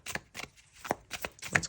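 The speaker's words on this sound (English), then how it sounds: "I don't know what's up with my shuffling today" A deck of tarot cards being shuffled by hand in a series of quick, crisp riffles and slaps, about six distinct bursts in close succession, near and clear with no talk.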